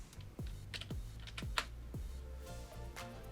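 Quick keystrokes on a computer keyboard, typing a git clone command as a run of close, crisp clicks with short irregular pauses.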